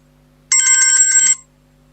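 A telephone rings once with an incoming call during a Thai-language Buddhist teaching call-in program, a single loud, bright electronic trill lasting under a second against near silence.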